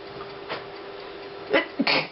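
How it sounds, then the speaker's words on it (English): A single sharp sneeze bursts out near the end, preceded by a brief sharp intake, close and loud against quiet room noise. "I'm glad I didn't sneeze on our drawing"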